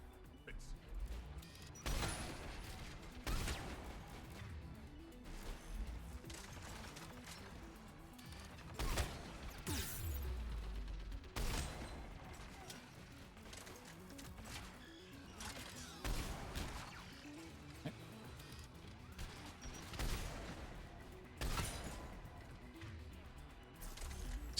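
Turret gunfire in the video game Mass Effect 3 crackles in repeated bursts and sharp impacts amid a busy, continuous combat mix, moderately loud throughout.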